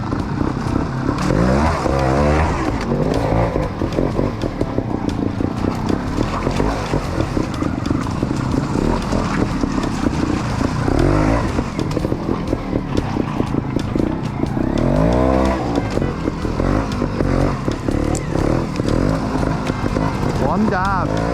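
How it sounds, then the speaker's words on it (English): A trials motorbike rides a lap of a section on a practice day, its single-cylinder engine burbling and blipping close by in steady uneven revs for the whole stretch, with people talking over it. "Second lap, we've sprayed WD-40 on my brake."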